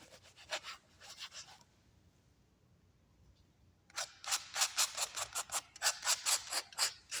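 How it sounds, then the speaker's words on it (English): Paint washes being scraped across a recycled canvas give rhythmic, close rasping strokes in two bursts, separated by a quiet pause, the later run of strokes louder and more regular. "So we're just putting more washes on top, kind of scraping that out."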